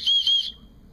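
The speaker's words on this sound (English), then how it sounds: "It has a whistle," A small whistle built into a paracord survival bracelet gives a shrill, piercing blast, two quick pulses run together within about half a second, close and loud.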